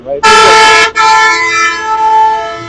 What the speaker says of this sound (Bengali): পেছনের বাইকটা এত পরিমাণে হর্ন দিচ্ছে